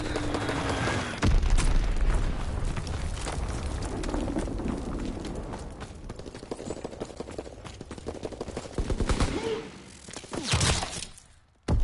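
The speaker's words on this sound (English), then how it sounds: "Enemy bomb incoming. Get to cover." A bomb goes off in a WW2 shooter, a loud roaring blast with rumbling bursts and crackling debris that rises, lingers for several seconds and then drops away into near silence.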